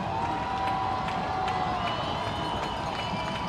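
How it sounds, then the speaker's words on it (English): Spectators at a high school football game between Staley and Lee's Summit West raise a steady, far-off roar with faint cheering, a continuous crowd wash heard from a distance. "Credit the crowd making a little noise for that."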